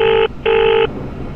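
Two loud, clean telephone dial tones or DTMF beeps in a horror video game, the first short and the second longer, separated by a brief gap and followed by quiet room hiss.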